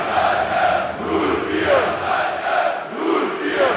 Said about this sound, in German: Gibt Applaus von den Rängen.